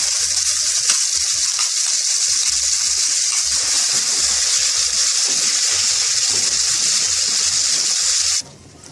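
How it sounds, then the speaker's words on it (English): Almond paste sizzles loudly and steadily in hot ghee in a heavy-bottomed pan. The hiss is continuous and close, then cuts off abruptly near the end. "So now we will add our almond paste to the ghee."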